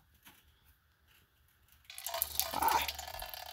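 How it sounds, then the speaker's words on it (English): Coolant draining from a Mustang radiator after the drain is twisted open, a quiet start giving way to a steady liquid pouring and splashing into a catch vat, close and fairly loud. "First thing we'll do is drain the radiator by twisting this here."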